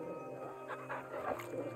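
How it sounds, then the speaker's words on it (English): In Final Fantasy XVI the hound Torgal gives a few quiet whimpers and yips while being petted, soft and brief bursts over low in-game ambience. "Pet the puppy."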